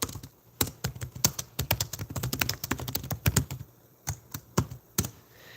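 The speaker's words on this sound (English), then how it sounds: "I'm going to type it here for you." Rapid typing on a computer keyboard, close and crisp, with bursts of clacking key presses, short pauses and a few heavier strikes near the end, no speech.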